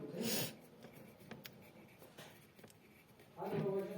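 A pen scratches quietly and close up while writing in a planner, with soft continuous strokes between short bursts of a woman's speech at the start and end.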